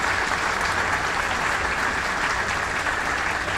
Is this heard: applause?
yes